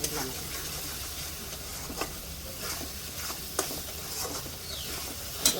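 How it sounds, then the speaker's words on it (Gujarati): Masala spices roasting in plentiful oil in a pan, a soft continuous sizzle and hiss with occasional stirring clicks and scrapes, fairly quiet and steady. "જ્યાર સુધી આ મસાલો તેલ ન છોડે ત્યાર સુધી આપણે એને શેકવાનો જ છે"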